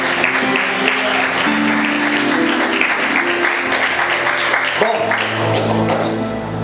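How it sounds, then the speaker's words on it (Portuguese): A church congregation claps hard together, dense sustained applause filling the room, with a voice talking over it and music tones underneath. "Vamos aplaudir Jesus bem forte"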